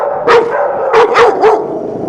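A pit bull barks four times, loud and close, in a quick uneven run with brief gaps between barks.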